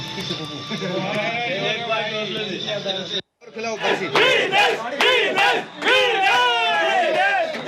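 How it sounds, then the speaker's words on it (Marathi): Family and neighbours celebrating wrestler Vinesh Phogat's win: a loud, dense crowd of excited shouting and cheering voices, briefly dropping out before surging back with overlapping yells. "विनेश फोगाटच्या विजयानंतर जल्लोष साजरा होताना पाहायला मिळतोय"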